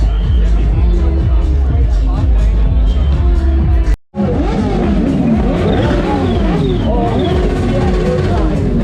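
Motorcycle engines start and rev at the India Bike Week show among bikes such as the Himalayan, KTM RC16 and 450 Rally, loud and close, under a busy crowd hubbub with a brief cut to silence.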